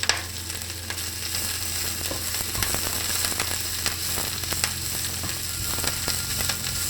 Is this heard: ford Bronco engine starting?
no